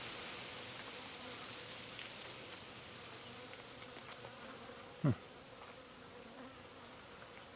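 Honeybees at a queenless apiary hive hum in a faint, steady, continuous drone with a single brief louder buzz of a bee passing close midway.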